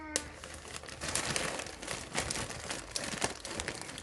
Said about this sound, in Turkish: Bisküvileri iyice ezdim.